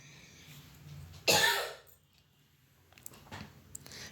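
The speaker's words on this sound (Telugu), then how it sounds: "కొద్దిగా దగ్గు అనేది ఎక్కువగా వస్తుంది" A single sharp, loud cough bursts out in a rooftop home garden, then fades. Faint shuffling and small clicks follow in an otherwise quiet setting.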